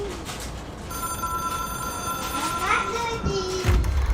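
An old-style telephone bell ringing in the video game Control, a steady metallic trill held for a few seconds over background room tone and game ambience, with a voice faintly under it.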